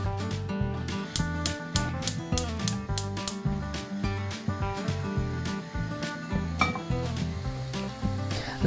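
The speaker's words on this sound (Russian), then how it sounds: "На разогретую сковороду добавляем растительное масло. Выкладываем овощи" Steady sizzling of vegetables frying in vegetable oil in a pan, partly masked by rhythmic background music with clear percussive hits.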